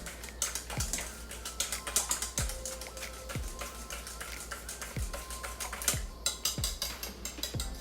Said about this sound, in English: We're gonna whisk it up all good together.